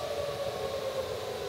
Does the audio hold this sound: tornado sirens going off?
yes